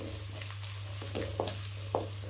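Ground masala paste fries in oil for a yam (senai kizhangu) gravy, with a loud, constant sizzle over a low hum and a few sharp scrapes from stirring.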